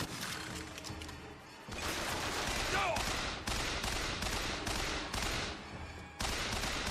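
Rapid machine gun fire in Bioshock Infinite rattles in loud, dense sustained bursts separated by brief pauses, with crashing impacts mixed in.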